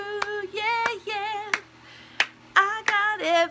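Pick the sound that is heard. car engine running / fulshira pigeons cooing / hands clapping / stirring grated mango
hands clapping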